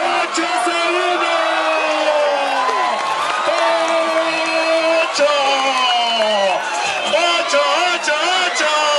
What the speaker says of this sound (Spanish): ¡Aplauso para el tercero!